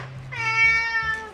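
A pet house cat in a home with several cats lets out one clear, close, drawn-out meow lasting about a second.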